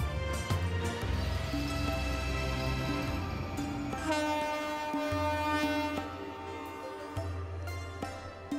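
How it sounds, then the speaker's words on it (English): A diesel locomotive on the Mathera hill railway labours along at moderate distance, its engine droning with shifting tones and occasional clanks and squeals from the wheels. "The diesel locomotives have been fighting their way up the hill for almost 30 years"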